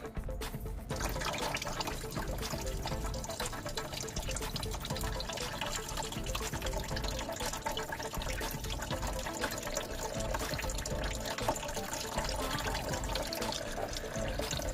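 Antifreeze drains from a 2008 Jeep into a large pan, a continuous splashing, trickling pour of liquid that holds steady and fairly quiet for the whole stretch.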